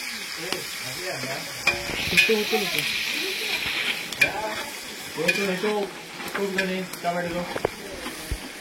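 Hot oil sizzles and crackles as spices are tempered for chicken curry on an outdoor wood-fired stove, a spoon stirring and scraping the pan, with people talking over the frying.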